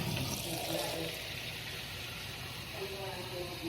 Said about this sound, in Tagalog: Tapos maglalagay tayo ng konting tubig.